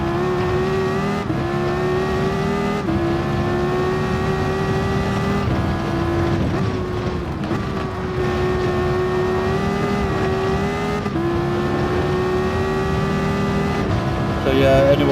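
A Dodge SRT Tomahawk racing around the Nordschleife in a video game, its engine droning loud and continuous with pitch rising and falling through gear changes, while someone talks over it.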